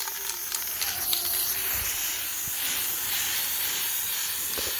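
Aerosol spray paint cans hissing steadily and close as griffin statues are coated, a continuous broadband spray with small breaks and faint clicks.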